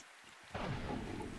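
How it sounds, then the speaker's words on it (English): Rain and thunder from the Minecraft video game begin abruptly partway in, a loud broad rushing rumble that holds steady to the end after a quiet start. "Let me turn rain on."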